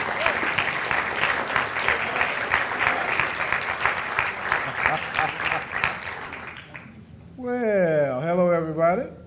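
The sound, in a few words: audience applause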